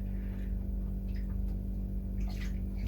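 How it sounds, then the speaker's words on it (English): Tap water runs steadily while someone washes hands at a sink, a continuous close rush with faint splashes and clinks and no talking. "I'm going to just wash my hands quickly again"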